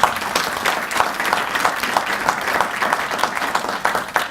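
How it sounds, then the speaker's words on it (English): A university audience claps at a professorial inaugural lecture, a full, continuous round of applause that stays loud and even from start to finish. "I think we can give her a round of applause."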